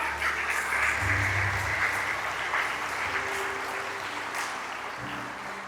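A church congregation applauding during a sermon, a steady, broad wash of clapping from many hands that holds at an even level throughout, with faint low tones underneath.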